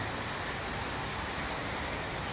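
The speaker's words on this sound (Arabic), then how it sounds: "تقوم على صوت المطر" Steady rain falls outdoors, a dense, even hiss of drops on surfaces throughout, moderately faint and uninterrupted.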